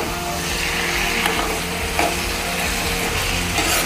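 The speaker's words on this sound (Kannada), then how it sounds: "ಇನ್ನೇ ಚೆನ್ನ ಹೈ ಫ್ಲೇಮ್ಲೆ ಫ್ರೈ ಮಾಡೋಣ" Coriander chicken frying on high flame in a pan, with a steady dense sizzle and occasional scraping stirs, close and continuous with no talk.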